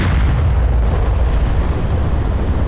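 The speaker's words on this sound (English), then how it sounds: "let's start with the HE 100mm, and I've got 2 of 9. So let's fire on the front armor of the Abrams" A tank's 100mm high-explosive round fires at an Abrams in a combat simulation, a loud sustained boom with heavy low rumble filling the whole moment, no voices.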